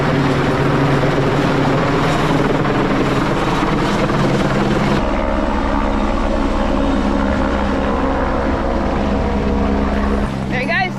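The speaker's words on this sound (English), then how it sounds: "got the helicopter coming around that we're hearing flying around all day" Helicopter flying close overhead above a New Zealand hiking trail while dropping a load of gravel onto the track, a loud steady rotor roar with a shift in pitch midway as it banks around, with a person talking underneath.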